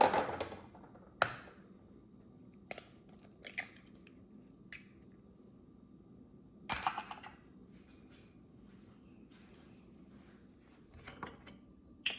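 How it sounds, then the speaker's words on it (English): Eggs cracked one by one against a bowl for a Spanish tortilla, giving sharp isolated taps and crunches spaced apart over a quiet kitchen background. "we will break all of the eggs into a bowl"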